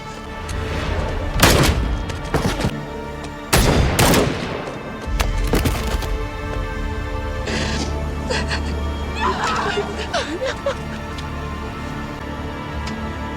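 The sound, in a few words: gunshots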